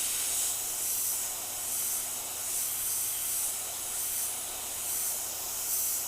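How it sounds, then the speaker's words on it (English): An airbrush sprays paint against a masking template on a model Shelby car body, a soft steady hiss that swells and eases in gentle repeated passes. "I'm going to be spraying against this side of the template."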